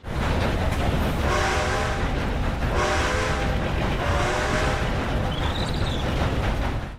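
A train rolling along with continuous rumble, several long horn blasts sounding in repeated bursts, and a short higher whistle near the end.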